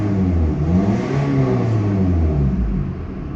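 A Mazda 3 engine runs with a steady, low, throaty rumble close by, freshly fitted with new spark plugs, holding a constant idle with slight rises in revs throughout.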